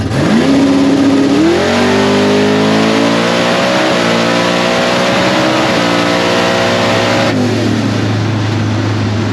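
A drag race car named Babe the Blue Fox roars at full throttle through a run, its engine note climbing in steps with gear changes and sounding rough as it breaks up, loud and continuous before easing off.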